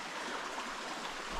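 A river on the Appalachian Trail flows steadily nearby, giving a continuous broadband rush with a faint gurgle and no pauses across the short stretch.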